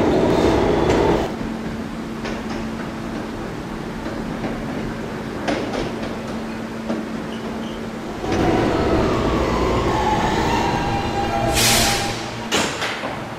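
An R160B E subway train rides between Herald Square and 57th Street in New York, giving a steady underground rumble with rattling wheels, a tonal hum and occasional squealing screeches toward the end.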